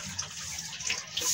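A steady stream of water runs from a tap in a kitchen, a brief, continuous splashing hiss heard on its own.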